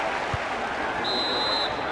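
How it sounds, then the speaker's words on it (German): A large stadium crowd at a Bayernliga Süd football match claps and murmurs in a steady broad roar, with a brief high whistle-like tone cutting through midway. "Ja, es gibt verdientermaßen Applaus."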